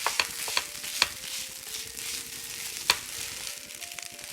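Bacon fries in a dry pan for fried rice, a steady soft sizzle with a few sharp clicks and taps of a utensil against the pan spaced through it.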